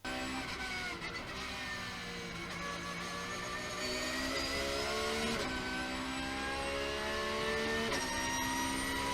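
A Porsche race car drives over kerbs, its engine close and loud with a continuous roar that rises in pitch through repeated revving sweeps, under steady road and wind noise.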